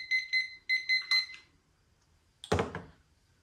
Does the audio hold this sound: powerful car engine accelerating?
no